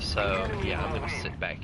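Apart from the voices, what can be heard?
No everyday noises stand out.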